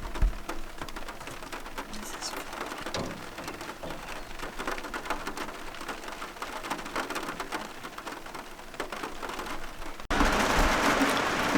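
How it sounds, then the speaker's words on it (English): Rain starting to fall on a van, a steady patter of drops drumming on the roof that suddenly grows louder and denser near the end, with no talk. "The rain just started."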